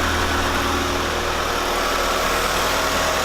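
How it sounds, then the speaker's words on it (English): A Mitsubishi Spyder with a fresh exhaust idles steadily nearby, a constant mid-low engine drone with a thin high alternator belt squeal running through it, no talking. "I guess I just can't have a Mitsubishi car without some alternator belt squeal."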